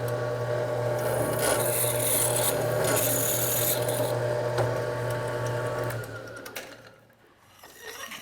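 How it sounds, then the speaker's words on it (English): A loud power drill grinds and whines steadily through aluminum for several seconds, then winds down and stops. "All right, and let's drill it."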